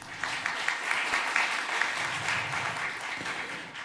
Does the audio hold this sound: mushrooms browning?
no